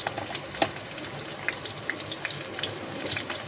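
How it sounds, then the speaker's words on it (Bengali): Brinjal slices frying in a pan, a bright crackling sizzle with small sharp pops, close and steady for a few seconds, no talking. "বেগুনটাকে ভাজবো এইভাবে,"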